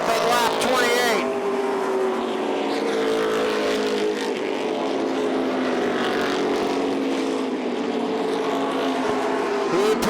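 Race cars at Oxford Plains Speedway during TD Banknorth 250 qualifying in 2006, engines roaring continuously with rising and falling whines as the cars run laps, while a commentator talks over the noise.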